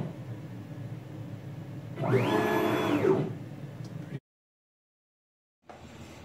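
CNC machine stepper motors drive an axis through a rapid move, a rising whine that holds, then falls away, over a steady mechanical hum, followed by sudden silence and the hum returning.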